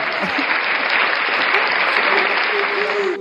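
Dense, even audience applause in a studio talk setting, loud and sustained for a few seconds before stopping.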